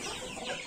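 Chickens cluck close by as wheat and feed are scattered for them, a brief, dense burst of busy flock chatter.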